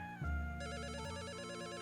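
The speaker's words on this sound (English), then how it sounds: "The phone is ringing." A telephone rings inside a mystery video game, a steady repeating electronic trill that starts after a low thump and keeps pulsing loudly to the end with no talk.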